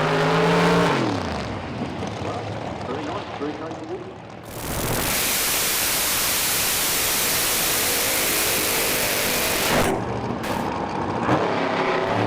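A Pro Mod drag racing car at a British Drag Racing Championship round launches with a sudden, very loud blast of engine roar that surges and stays at full, harsh intensity for several seconds, with commentary heard before it.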